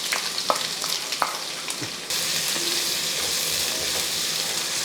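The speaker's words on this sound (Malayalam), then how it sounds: "വലിയൊരു സവാള പൊടിയായിട്ട് അരിഞ്ഞ് വെച്ചിരിക്കുന്നു ആ സവാളയെ കൂടി ഇതിൻ്റെ കൂട്ടത്തിൽ നമുക്ക് കൊടുക്കുക" Finely chopped large onion hits hot oil with mustard seeds and chillies, a crackling sizzle with sharp pops and clinks that jumps into a louder, even frying hiss midway and holds steady up close.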